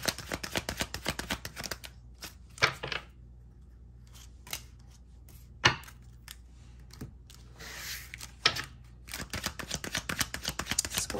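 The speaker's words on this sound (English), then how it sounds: "Sorry about the loud shuffling." Cards being shuffled up close in crisp clattering bursts, with pauses between flurries and a few sharp snaps, no voices.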